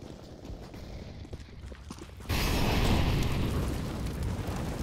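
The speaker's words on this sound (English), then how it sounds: "Throwing a grenade." A grenade detonates in a video game: after about two seconds of quieter game noise, a sudden loud broadband blast hits and leaves a sustained roaring rumble until the end.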